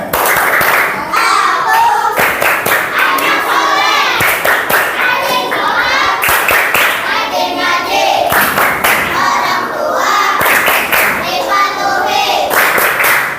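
Schoolchildren clapping hands together in a rhythmic classroom clapping chant, sharp sharp claps in repeated patterns, loud and close, with children's voices calling along throughout.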